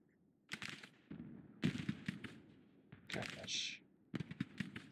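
Artillery guns fire in the Civil War strategy game Grand Tactician during a large battle at Bull Run: a string of sharp, booming reports in irregular bursts, some overlapping, over a low rumbling battlefield bed.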